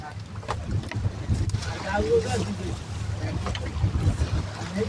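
A vessel moving across the deep open sea with a fishing trawler close alongside gives a steady low engine rumble over wind and water wash, continuous and moderately loud, with faint voices now and then.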